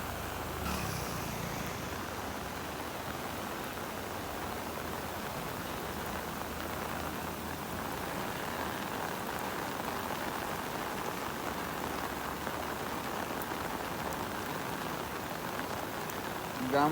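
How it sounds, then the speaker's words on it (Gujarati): Heavy monsoon rain pours down without pause in a village, a dense, even hiss of drops hitting surfaces that holds at the same level from start to end with no other sound standing out. "હજી વરસાદ ચાલુ જ છે"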